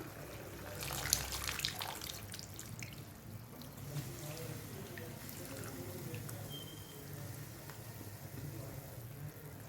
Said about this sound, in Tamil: இப்போ நம்ம கரைச்சி வச்சுருந்த புளி தண்ணியை வந்து இது கூட ஆட் பண்ணிக்கலாம்.